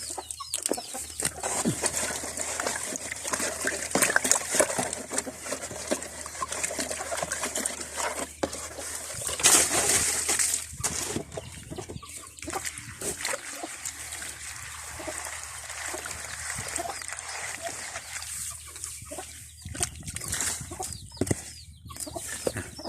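Water splashes and trickles while the water for chickens is changed, intermittent pouring and dribbling close by with clucking hens and flapping wings around.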